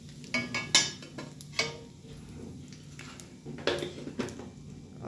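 A metal spoon stirs mustard seeds and asafoetida through hot oil in a pan while cooking Indian bhindi (okra), giving scattered clinks and scrapes against the pan, with faint background noise and no talking.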